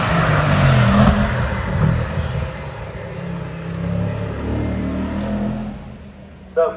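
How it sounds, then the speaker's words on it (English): An Aston Martin race car at a hill climb rumbles loudly and steadily with a deep engine note throughout, fading slightly toward the end before a brief sharp sound. "Big rumbling Aston Martin here."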